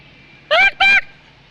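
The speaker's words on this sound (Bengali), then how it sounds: "এই দেখো ময়ূর" Two loud, harmonic calls in quick succession from a peacock at a zoo, each a rising, nasal honk lasting about a quarter second over quiet background, with no talking.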